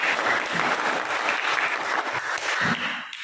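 Classroom applause from students, a steady burst of clapping that fills the room evenly for a few seconds before fading at the end, with no talking over it.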